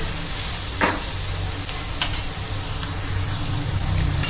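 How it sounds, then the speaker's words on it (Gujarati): Finely chopped onions fry in hot oil with a steady loud sizzle throughout, broken by a few scraping stirs of a spoon in the pan. "બે મિનિટ કાંદાને તેલમાં સાંકળવાના છે"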